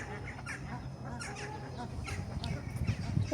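Several geese honk repeatedly in overlapping calls at the Kharkiv zoo, moderately close, over a steady outdoor background hum.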